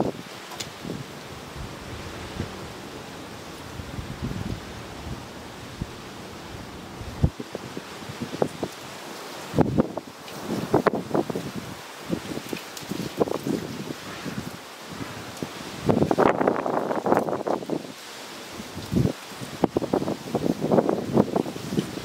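Wind gusting outdoors around a flat plate wind-power mechanism, irregular bursts of rumbling microphone buffeting and rushing air that rise and fall over a quiet breezy background.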